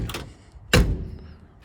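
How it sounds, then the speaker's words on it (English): A classic Chevy's car door swings shut with one solid, close thunk, followed by a brief fading rumble in an otherwise quiet space. "the door actually shuts quite nice now."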